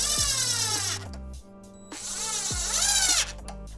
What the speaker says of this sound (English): I can put 2 screws in here just to make sure the tape doesn't come off.